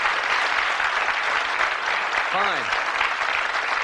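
A studio audience on the 1982 Bullseye darts game show gives a continuous round of applause, steady and full throughout, with a brief voice rising over it midway.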